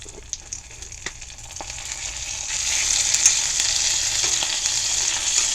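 A patty sputters in a cast iron pan set up in a greenhouse, starting with a few knocks from the flip, then the hiss swells into a loud, continuous close fry.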